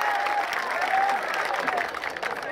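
An audience at an Urdu mushaira poetry gathering breaks into steady, dense applause, a continuous patter of many hands filling the hall, with faint whistles threaded through it.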